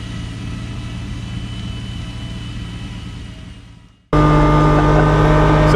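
Kubota LX2610 compact tractor fitted with a front-mount snow blower, clearing a snowy driveway; a steady engine drone fades away, then cuts back in abruptly as a loud, close, sustained engine and blower roar.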